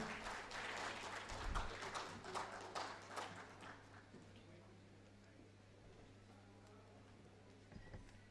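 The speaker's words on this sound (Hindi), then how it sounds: "कृपया मंच पर आइए जोरदार तालियां प्लीज" A studio audience at a Hindi TV news channel program applauds as guests are called onto the stage. The clapping is fairly faint and busiest in the first few seconds, then thins out over a low steady hum.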